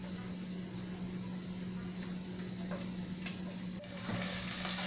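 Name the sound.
sausage frying in a pan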